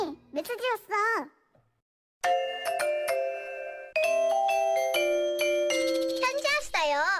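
Cute Korean message notification ringtone: bright chiming electronic tones in a short melodic run, with playful childlike voice snippets before and after, loud and close.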